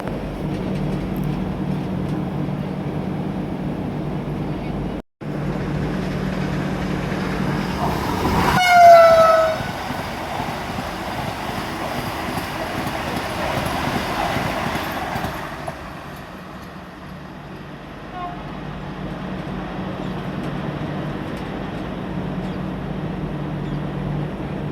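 A Vande Bharat express train overtakes and rushes past at speed with a loud, bending horn blast midway, followed by a sustained rumble and clatter of wheels on the rails that gradually fades.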